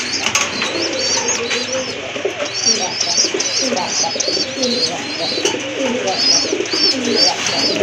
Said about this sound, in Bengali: চমৎকার এক জোড়া কবুতর দেখেন দুইটা বেবি আছে